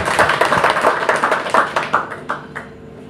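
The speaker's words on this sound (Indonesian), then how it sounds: "Ya pokoknya sekali lagi tepuk tangan untuk imam." An audience claps for Imam in a short burst that thins out and fades within a few seconds.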